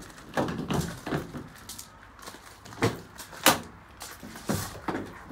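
Rear barn doors on a long-wheelbase Ford Transit Custom double cab van are handled in bursts, with latch clunks, rattles and a few sharp thuds from the metal panels, fairly close with no talking.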